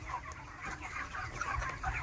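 Dense, continuous clucking from a flock of chickens on a village poultry farm, many overlapping birds close by with a steady chatter and no gaps.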